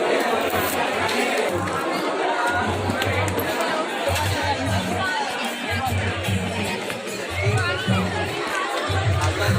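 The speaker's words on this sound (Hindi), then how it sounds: "पूरा खचा खच भीड़ यार" Dense crowd chatter and hubbub at the packed Dongargarh Navratri fair, a continuous babble of many voices with nearby talk and a low rhythmic drumbeat pulsing underneath.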